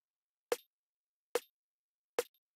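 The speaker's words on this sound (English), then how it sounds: "And then you have these cool snare sounds." Three crisp snare drum hits from a sample pack, evenly spaced about a second apart, each a sharp bright crack with a quick decay, alone against silence.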